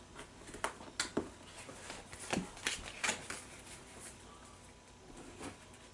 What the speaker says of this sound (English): everybody can draw 2 loot cards